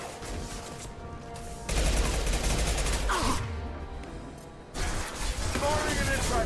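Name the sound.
impact shot gunfire in the video game Mass Effect 2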